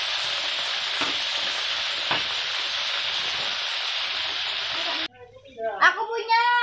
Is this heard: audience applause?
no